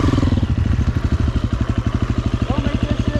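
A dirt bike engine chugs in a steady, rapid pulsing rhythm while riding off road at a Georgia adventure park, close by, with people talking over it.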